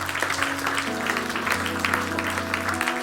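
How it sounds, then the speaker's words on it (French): A church congregation claps and cheers for Jesus in a steady, dense wash of applause mixed with voices and sustained music underneath, continuous throughout. "Est-ce qu'on peut acclamer Jésus ?"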